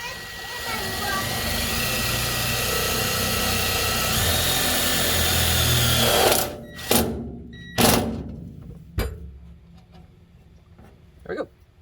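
Power drill driving a self-tapping screw into a metal electrical box, a steady whirring drive for several seconds followed by a few short sharp bursts as the screw seats, close by.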